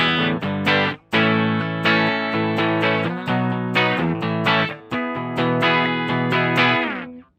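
Epiphone SG Prophecy electric guitar with Fishman Fluence pickups in single-coil voicing, playing loud, bright strummed and picked chords with sustained ringing notes and brief pauses, no voices.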